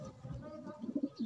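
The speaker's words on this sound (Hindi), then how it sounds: "ये कबूतर है नर, और इसके साथ मैंने मादा जुट किया है" A male Patiala cross pigeon coos in a few soft, low throaty pulses, close by and fairly quiet, with a faint low murmur in the background.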